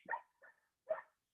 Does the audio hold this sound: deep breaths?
no